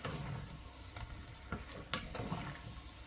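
Potatoes tossed in a pan through a soy and butter mix make a soft, continuous sizzle broken by a few light stirring knocks, close by and fairly quiet.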